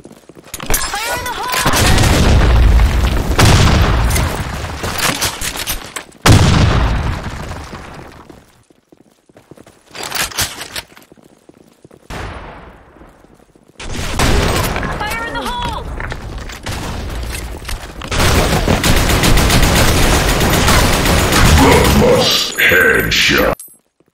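Gunfire and grenade blasts in the Blackshot shooter game, loud and repeated, with dense bursts of shots and booms separated by short quiet gaps, and voice lines heard among the firing.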